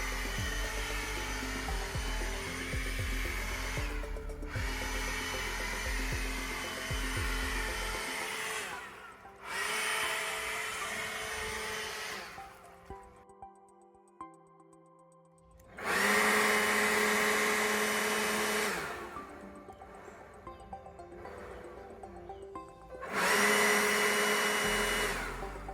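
A Ryobi leaf blower, just fixed after a dead trigger, roars in loud bursts with a rising whine, cutting off into near silence between runs and starting up again twice, close by.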